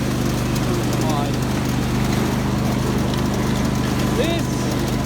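A Craftsman GT5000 lawn tractor engine runs at a steady, loud drone with a continuous mechanical hum and no pauses, a few faint squeaks in the background.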